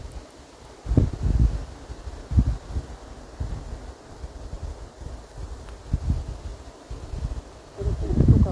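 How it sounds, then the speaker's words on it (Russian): Gusty wind buffets the microphone in uneven bursts at Lake Seliger in August, with low rumbling thumps and a faint rustling background throughout. "Ветер, правда, мешает наблюдению."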